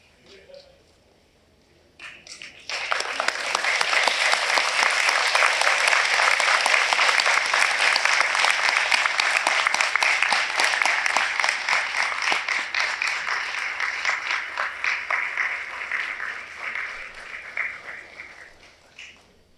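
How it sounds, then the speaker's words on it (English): Graduates at a Fisheries and Marine Institute of Memorial University graduation ceremony applaud their loved ones: a large crowd's dense, sustained clapping swells in after a quiet moment, holds loud and steady, then gradually thins out. "I would like you to stand, turn, face your loved ones, and offer a round of heartfelt applause"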